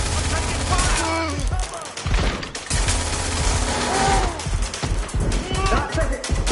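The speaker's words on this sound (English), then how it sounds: "I'm taking fire!" Gunfire during a firefight in the video game Watch Dogs Legion on PlayStation 4, rapid bursts of shots crackling over music and game noise, with character voices talking through the exchange.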